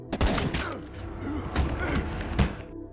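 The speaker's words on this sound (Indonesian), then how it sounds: "Di waktu yang sama tiba-tiba Frank dan Madani ditembaki oleh seseorang yang ternyata itu adalah Billy, si rekan Fra" Gunfire in an action film comes as several sharp, loud reports mixed with heavy thuds and a dense, booming soundtrack over a few seconds.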